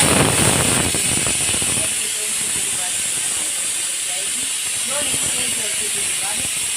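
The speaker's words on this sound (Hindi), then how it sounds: "हमारे कुकर ने मार दी है सीटी" A pressure cooker lets out a loud, sustained hissing whistle of steam that tapers off, while a person talks faintly underneath.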